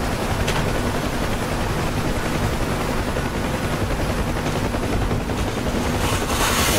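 A UH-1 Huey helicopter in the DCS flight simulator flies through rough weather on approach to a runway, its dense rotor and turbine roar constant and loud throughout, with no voices.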